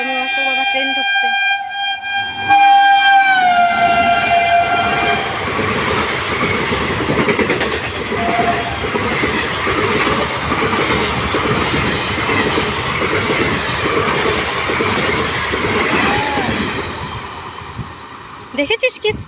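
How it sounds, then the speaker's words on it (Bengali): A large train pulls into a busy station, its loud horn blaring at the start before the steady rumble and clatter of wagons fills the platform, with squealing wheels and crowd noise continuing to the end. "বড় ট্রেন ঢুকছে।"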